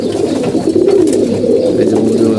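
Healthy pet pigeons coo continuously and loudly up close, their low rolling calls overlapping in a dense, unbroken chorus.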